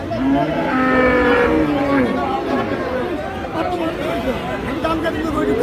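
Cattle, including cross and Friesian bulls and calves, low at a rural livestock market while a crowd of voices chatters loudly and continuously around them.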